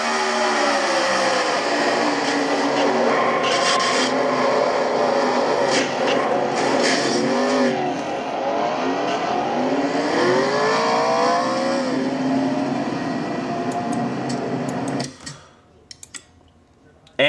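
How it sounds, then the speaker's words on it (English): Onboard a stock car racing at Iowa, a race car engine roars loudly and close, with rising and falling revs through gear changes and throttle shifts, before cutting sharply away near the end. "And now from Ricky Falcon's car, car number 40"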